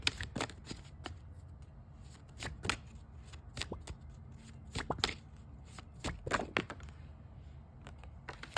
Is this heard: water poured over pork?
no